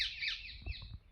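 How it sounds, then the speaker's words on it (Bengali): Birds call and squawk in a hot, dense forest, shrill high cries sweeping down in pitch over a low background rumble, fairly close and continuous through the short moment. "পাখি কত সুন্দর ডাকছে।"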